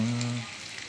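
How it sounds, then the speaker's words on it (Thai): Hot oil crackles and sizzles steadily as battered, marinated pork ribs deep-fry in a pan, with a brief low hum at the start. "ลงกระทะไปที่เรียบร้อยนะครับ ทอดให้เหลือง"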